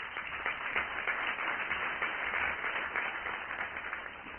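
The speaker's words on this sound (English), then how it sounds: "Ladies and gentlemen, please clap for Mr." Audience applause for a speaker being introduced at an event, a steady wash of many hands clapping, sustained and fairly even throughout with no voices on top.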